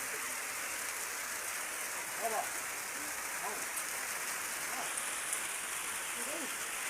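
Steady rain falling on a surface, a dense continuous hiss with scattered drops, close and even throughout, with faint voices underneath.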